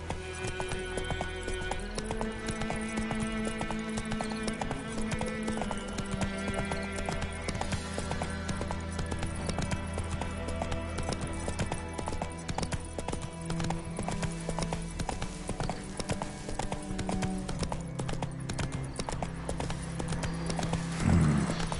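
Hooves clip-clop in a fast rhythmic gallop as a horse runs in The Witcher III: Wild Hunt, layered over steady background music for the whole stretch, with no talking.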